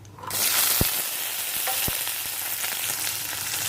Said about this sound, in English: Fry the onions till it is medium golden brown.